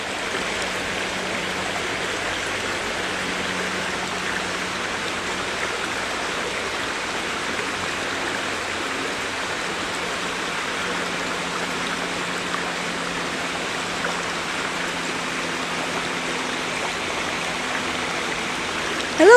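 A mountain-fed stream at Morgan Brook flows steadily, a constant close rushing wash of water with no breaks and no voices.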